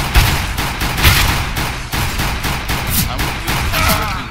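Rapid bursts of gunfire from the video game CS:GO, repeated shots crackling loudly and continuously with brief gaps, with faint speech underneath.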